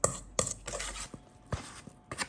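Marinade for Korean ttukbaegi bulgogi being stirred in a bowl as meat goes in, scattered clinks and soft scrapes of utensil against the bowl, close and intermittent.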